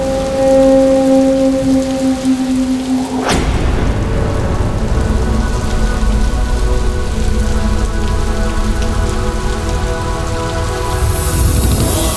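Heavy rain pours steadily on surfaces, a dense loud hiss, with a sharp thunderclap striking partway through and rumbling on beneath the downpour; a sustained tone fades out just before the crack.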